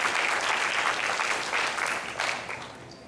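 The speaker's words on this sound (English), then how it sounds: "can we give them a round of applause?" A crowd applauding, steady clapping that holds strong then begins to fade toward the end.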